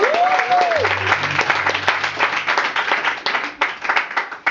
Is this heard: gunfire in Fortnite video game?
no